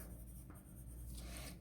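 Pen writing a label on a paper skirt pattern, a brief, faint scratching of strokes close by with no talking.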